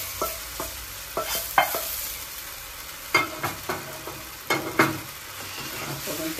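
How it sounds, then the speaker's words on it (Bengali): A spoon stirs a tempering into sizzling palak paneer, giving a run of close, irregular scraping clinks against the pan over a steady low frying hiss. "ফোড়ন ফোড়নটা আমি এর মধ্যে মিশিয়ে দিলাম।"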